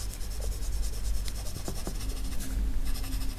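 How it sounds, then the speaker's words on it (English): A soft 6B graphite pencil scratches steadily across paper while shading a drawing of clouds, a close, quiet, continuous scraping hiss with small strokes and shifts in pressure. "I'm gonna need my softer pencil, so 6B should be fine."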